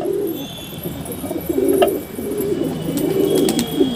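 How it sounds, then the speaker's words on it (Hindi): Pigeons coo repeatedly in low, throaty bursts, close and fairly loud, with a continuous murmur of other birds around them and no one talking. "अभी सारे कबूतर यहाँ पे हैं"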